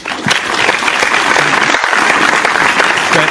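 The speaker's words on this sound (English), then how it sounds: "that's a little applause and a little horrific scream there" Applause sound effect played on a beer-themed talk show: a burst of crowd clapping, loud and continuous for a few seconds, with no voices over it.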